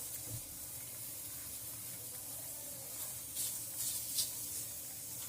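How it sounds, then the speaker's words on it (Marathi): Onion dropped onto a hot tava griddle, giving a steady faint hiss of sizzling with a few brighter crackling bursts toward the end, no talk. "तवा चांगला गरम झाला तर आता आपण त्याच्यावर कांदा टाकून घेऊया"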